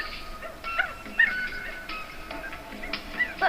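A dog whimpers and gives short high yips and whining cries in a series of separate bursts, fairly close and clear, with no talking.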